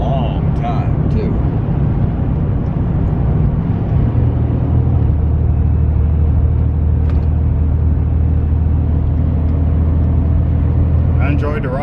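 A 1987 Buick Grand National accelerating hard at speed, heard from inside the car as a loud, steady engine and road rumble that deepens and drones on throughout.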